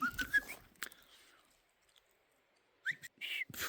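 Several people whistle in short bursts, a clear tonal whistle at the start and more at the end around a pause, on an outdoor trip among wild horses and old roads in central Oregon.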